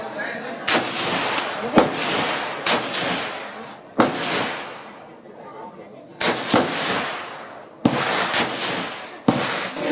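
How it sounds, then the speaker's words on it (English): AK-47 rifle shots crack out loudly at an outdoor shooting range in Vietnam, about eight single shots at irregular intervals, each followed by a decaying echo. "But we both shot an AK-47."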